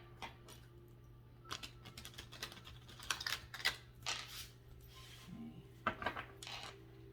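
A deck of tarot cards is shuffled and cut, making soft, close riffles and sharp card clicks in uneven bursts against a quiet background. No one talks.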